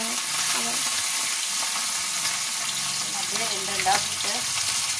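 Steady hiss and crackle of prawns frying in hot oil, with occasional bubbling pops and a faint voice in the background.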